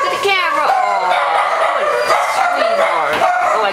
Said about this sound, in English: I guess I got the other dogs going